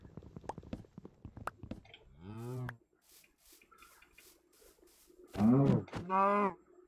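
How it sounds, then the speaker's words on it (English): Cows in the video game Minecraft moo loudly twice, each a long low call, after several seconds of quieter game sounds and clicks. "Hear me some cows."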